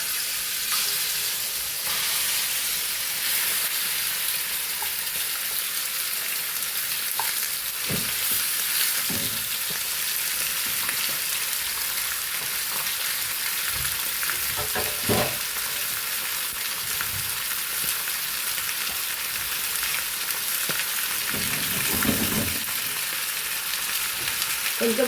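Green chilli chicken frying in a pan, a steady, loud sizzle with occasional stirring scrapes and clinks, running continuously without talk.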